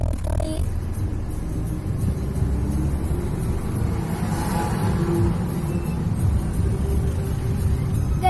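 A road vehicle climbs the winding Wayanad ghat road, its engine a steady, close, low rumble that continues throughout with no talking.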